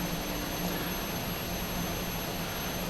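An SK60 jet's engine roars with a constant whine and broadband rush on landing approach, heard from inside, steady and loud for the whole short stretch.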